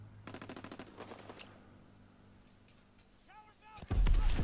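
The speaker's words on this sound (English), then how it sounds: "Strafing run inbound." Rapid machine-gun bursts from a strafing run in Call of Duty WWII, loud rattling fire in the first second that fades into a rumble, with brief whistling tones and a heavy blast at the end.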